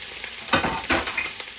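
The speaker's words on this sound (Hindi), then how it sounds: "घी हमारा गर्म हो चुका है। अब हम इसमें अपने थिन स्लाइस्ड अनियंस ऐड कर देंगे।" Thin-sliced onions drop into hot ghee and fry with a steady, close sizzle, swelling in two louder bursts as they are stirred in the pan.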